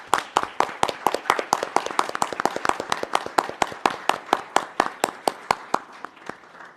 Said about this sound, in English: If we could give the appointees a round of applause.